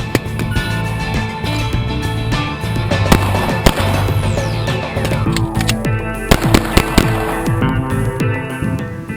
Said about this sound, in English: we're going to be shooting it sideways, all different kinds of ways, just to see how the gun reacts